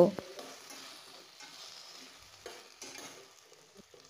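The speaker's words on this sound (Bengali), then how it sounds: "গ্যাসের ফ্লেম মিডিয়ামে রেখে হলুদ দিয়ে দু মিনিটের মতো নাড়াচাড়া করে নিয়েছি" Elephant apple stirred with turmeric in a pan over a medium gas flame, soft scraping strokes over a faint low sizzle, with a few sharper spoon scrapes and taps.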